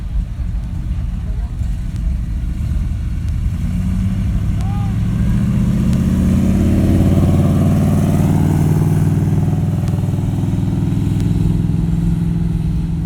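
A Corvette's exhaust roars steadily at a rolling exhaust contest at Carlisle, the loud, low rumble building as the car passes close by and holding strong to the end.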